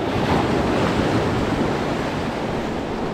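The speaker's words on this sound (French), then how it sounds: "Il commence à avoir un peu de jus et de vagues." Ocean surf rolls and breaks against coastal rocks in a continuous loud wash of churning water, mixed with gusty wind buffeting the microphone and no voices.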